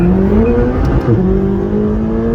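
A McLaren 570GT engine with 562 horsepower revs and accelerates, a loud, close, rising engine note with a gear-change dip partway through, heard alone.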